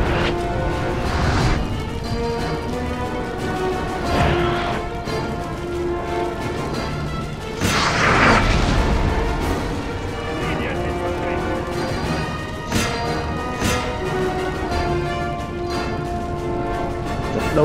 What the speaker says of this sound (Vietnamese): If you want to make a breach, you'll need to concentrate all your artillery fire upon the same point.